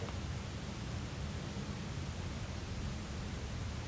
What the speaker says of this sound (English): The ambient sound is the hum of the engine and the movement of air through the vents.